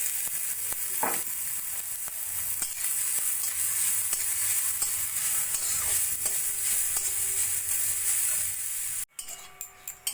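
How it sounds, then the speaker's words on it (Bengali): Grated coconut frying in ghee in a wok, a steady close sizzle with occasional scrapes and stirring clinks of a utensil, ending with a brief clatter. "নারকেলটা আমি ভেজে নেব।"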